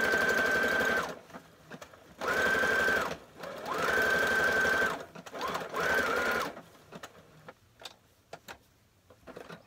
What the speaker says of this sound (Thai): ต้องเย็บหลายๆครั้งหน่อย